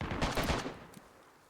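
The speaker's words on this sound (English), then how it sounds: "That sounds like a new gun, doesn't it?" A new rifle fires in DayZ, a quick burst of close, loud shots in the first half second that fades into a trailing echo.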